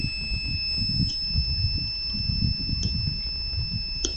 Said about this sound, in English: then the buzzer should stop